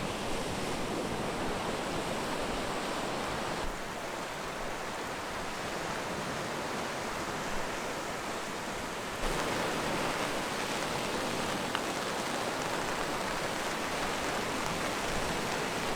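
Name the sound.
rain falling at the coast while fishing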